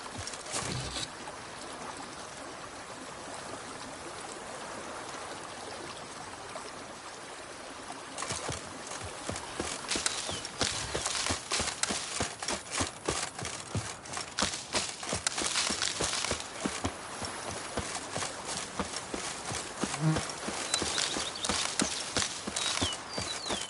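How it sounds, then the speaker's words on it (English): A horse gallops in the video game The Witcher 3: Blood and Wine, hooves pounding in a fast, steady rhythm that starts partway through and continues, over a low background wash of ambient noise. "Often a horse drops if you ride it at a constant gallop."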